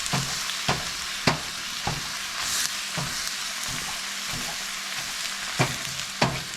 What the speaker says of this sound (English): as it's browning, it's breaking up into smaller bits